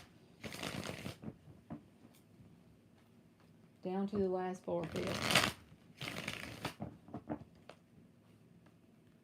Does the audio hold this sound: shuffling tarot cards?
yes